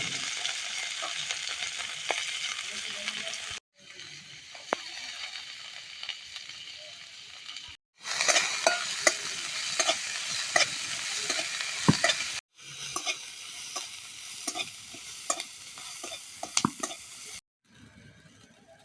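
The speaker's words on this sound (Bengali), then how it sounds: "জিরেগুলো পেঁয়াজ রসুনের সাথে ভেজে নেব।" Chopped onion, garlic and cumin seeds fry in hot oil in a village kitchen, a steady crackling sizzle broken by a spoon stirring and scraping the pan in bursts, separated by short cuts.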